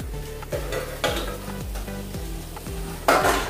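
Dahi bhindi curry cooks in a pan with a steady close simmering sizzle, broken by several soft stirring scrapes and clinks and a louder burst of bubbling near the end.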